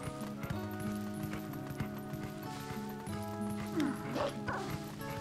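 Dog barking in Zelda: Twilight Princess HD, a few bow-wow barks and yips over steady game music with a light clip-clop of hooves, fairly loud throughout.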